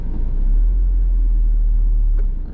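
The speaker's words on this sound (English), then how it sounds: "You hear how the motor starts struggling a little bit?" A Honda S2000 engine with its low, steady rumble dragging down and labouring as the clutch reaches its grab point. It runs close and continuous for the whole stretch, with no talking.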